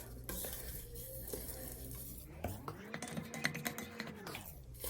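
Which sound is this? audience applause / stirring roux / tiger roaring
stirring roux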